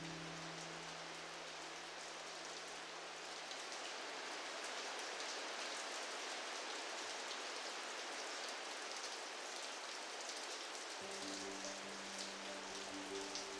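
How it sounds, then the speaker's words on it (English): Steady rain pours over a farm, a dense, even hiss of drops hitting surfaces that continues throughout, close and unbroken, with a low hum joining near the end. "It may not be raining over there, but it's raining right here."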